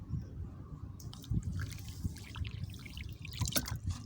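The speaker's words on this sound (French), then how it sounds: "Nous allons verser l'eau dans le sable." Water is poured into a soil sample of sand for an acidity test, with soft trickling and dripping sounds that swell into brighter splashing and gurgling toward the end, close and moderately quiet.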